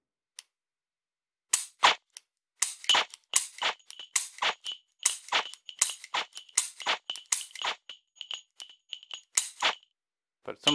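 Sharp pistol dry-fire trigger clicks during LaserHit laser training, arriving as irregular single snaps with faint electronic beeps between them in a quiet room.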